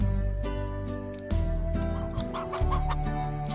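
A hen in the Slime Rancher video game clucks in several loud, close bursts over a sustained tonal game soundtrack, with no talking.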